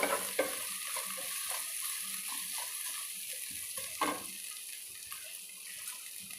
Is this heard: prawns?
yes